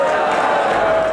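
A crowd cheers and shouts in a dense, steady roar that fills the whole moment, loud and close, with no single voice standing out.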